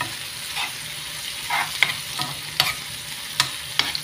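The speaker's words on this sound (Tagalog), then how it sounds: "Ginisang kamatis, luya, sibuyas, at bawang." Tomato, ginger, onion and garlic sautéing in a pan, a close steady sizzle broken by several sharp spatula scrapes and clacks spread across the clip, with no talking.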